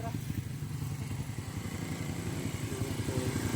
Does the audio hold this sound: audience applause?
no